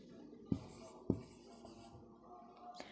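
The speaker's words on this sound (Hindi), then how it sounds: "तो सेंटेंस लिखते हैं यहाँ पे।" Marker or chalk strokes on a classroom board as a sentence is written, two sharp taps followed by softer scratching strokes, close and quiet in a still room.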